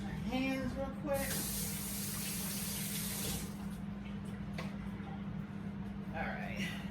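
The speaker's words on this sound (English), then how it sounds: "Let me wash my hands real quick." Tap water runs and splashes as someone washes their hands in a kitchen sink. The loud spray lasts a few seconds and then drops to a quieter trickle, with a voice heard briefly at the start and end.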